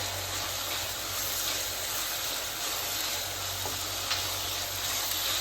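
Turmeric, asafoetida, fenugreek and chilli powder frying in oil for irumban puli pickle, a steady close sizzle and hiss running through, with a faint tap of stirring near the end.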